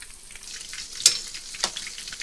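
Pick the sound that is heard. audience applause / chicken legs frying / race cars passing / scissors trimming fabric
chicken legs frying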